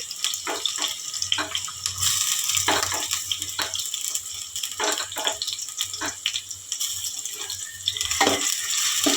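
Chopped onions drop into hot oil for a traditional brinjal curry with tamarind leaves, giving a steady bright sizzle broken by irregular crackles and stirring scrapes.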